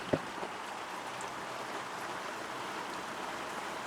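Steady, even rain hissing down, with a single soft knock near the start and no voices.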